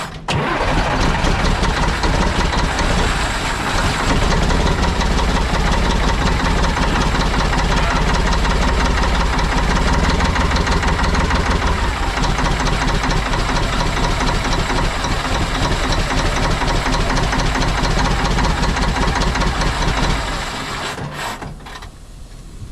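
An old Kenworth K100 cabover truck, left sitting for nearly two decades, cranks and fires up in freezing cold, its engine running loud, rough and steady close by for about twenty seconds before cutting off.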